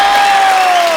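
A studio audience at a comedy TV show cheers and applauds, a dense, loud wash of crowd noise with a sustained high whistle-like tone running through it.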